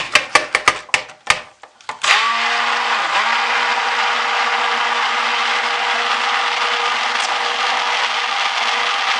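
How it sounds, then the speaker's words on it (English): Stick blender whirring steadily through soap batter made with canola oil after several sharp clicks and short bursts, then a loud, sustained motor hum held for several seconds. "See, all that stick blending and it's still not."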